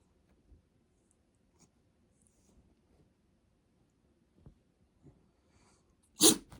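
A small dog gives a single sharp sneeze near the end, after a stretch of faint sniffs and quiet snuffling close by.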